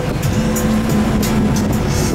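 Steady engine drone and road rumble inside a local bus travelling from Mui Ne to Phan Thiet in Vietnam, continuous and fairly loud with no talking.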